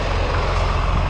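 A semi truck backs up toward a trailer to hook it, giving a brief, steady loud diesel rumble with no voices.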